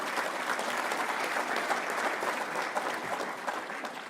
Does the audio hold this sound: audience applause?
yes